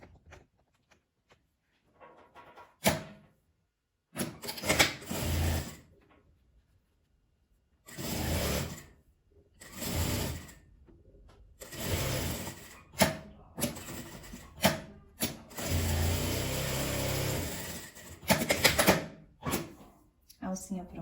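Sewing machine stitching both sides of a folded fabric strap for a flower-shaped gift bag, in short separate bursts with a longer run near the end, between quiet pauses and handling sounds.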